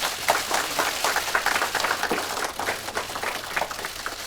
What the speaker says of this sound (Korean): 박수로 보내주십시오